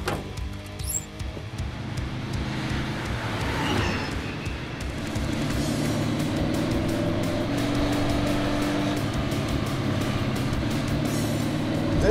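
1932 Ford hot rod engine cranking and catching, then settling into a steady, rumbling idle that continues loud and close.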